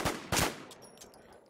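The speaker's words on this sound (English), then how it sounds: "somebody's shooting at us" Gunfire in the online zombie survival game Infestation: NewZ, two loud bursts of shots in quick succession followed by fainter, more distant pops and clicks.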